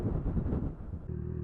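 Steady, heavy wind buffeting outdoors with low rumbling gusts and a constant roar, no voices.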